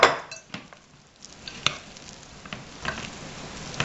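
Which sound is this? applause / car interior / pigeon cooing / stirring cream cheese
stirring cream cheese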